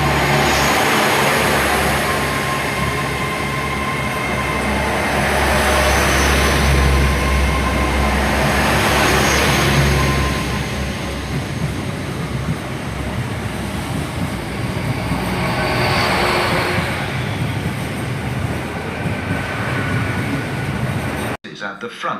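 Two Class 800 units, 800.013 and 800.010, departing Bristol Parkway station toward Stoke Gifford depot, a loud sustained engine drone and rail rumble that rises and then eases away over about twenty seconds.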